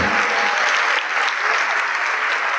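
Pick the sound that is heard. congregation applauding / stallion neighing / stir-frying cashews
congregation applauding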